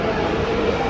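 Metro train in Medellín, Colombia passing close by, a steady broadband rumble and rail hiss that holds at an even, fairly loud level from start to end with no distinct onset or fade.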